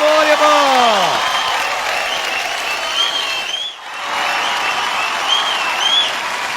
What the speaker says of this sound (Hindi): Everyone, give it up for Alia Bhatt.